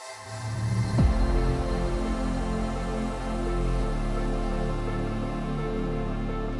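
Atmospheric samples layered with a sustained synth pad in a melodic drum and bass track, a loud swelling wash of held chords with a low transient hit near the start, steady and full throughout.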